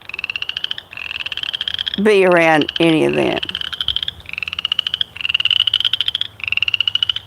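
A loud, dense chorus of frogs croaking outdoors in a steady rapid pulsing rhythm, with a voice speaking briefly over it midway.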